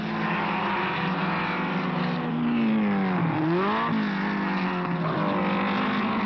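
A Renault R8 Gordini race car engine roars steadily through a race, a loud continuous drone whose pitch dips and swells midway as the car passes close by.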